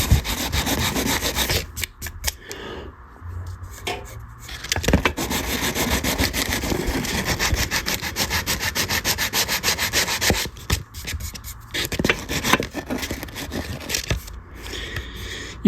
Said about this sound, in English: Scratch my fret up a little bit.